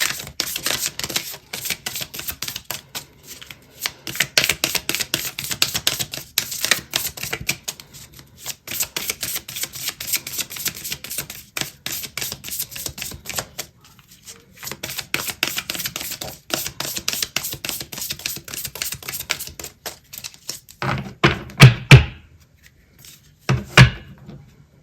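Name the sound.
shuffling and drawing oracle cards from a deck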